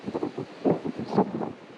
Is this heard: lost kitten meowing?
no